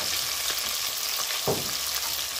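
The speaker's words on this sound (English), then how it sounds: "I will let all these fry together" Onions, chilies and garlic fry together in oil in a pan for an Indian rice khichdi, giving a steady close hiss of sizzling with one brief louder crackle midway and no talking.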